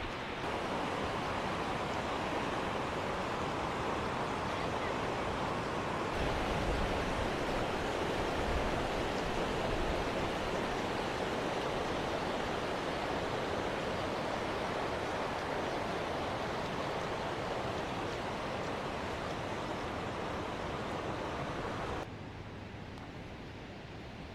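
Water rushes steadily over a small waterfall, a dense, unbroken roar of flowing water heard up close with no voices, easing slightly in the final seconds.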